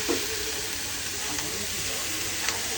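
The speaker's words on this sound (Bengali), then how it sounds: "কিউব কিউব করে সুন্দর সুন্দর টপা টপো করে কাটা আলু সবটা চলে যাচ্ছে দেখো" Cubed potatoes for aloo posto hit a hot pan, giving a steady, broad frying sizzle that holds evenly throughout, with a couple of faint clinks over it.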